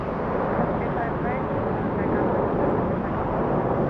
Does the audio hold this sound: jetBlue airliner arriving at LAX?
yes